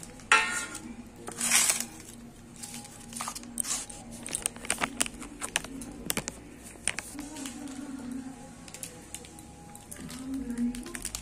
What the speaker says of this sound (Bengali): এর মধ্যে মিশ্রণটা পুরো ঢেলে নেবে এবং ভালোভাবে মাখিয়ে নেব